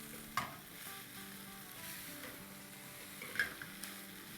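Shredded chicken with spices sautéing in a pan, a soft steady sizzle with two sharper clinks of a spoon against the pan, quiet and close with no talk.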